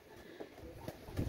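A KTM Teddy pigeon of imported Pakistani bloodline gives a few soft, low coos close by, brief and faint, over quiet room noise.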